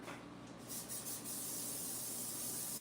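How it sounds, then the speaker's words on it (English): A steady hiss of cooking spray lightly coating food in a heavy casserole dish for a couple of seconds, close and fairly quiet. "I'm just going to sort of lightly spray them with just a little bit of spray here."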